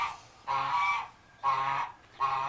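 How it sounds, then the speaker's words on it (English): A Buff Orpington chicken gives three loud, drawn-out honking calls, each about half a second long and evenly spaced, close to the microphone with quiet pauses between them. "That's the Buff-Orpington, which is what Andy is, and Sam is Buff-Orpington"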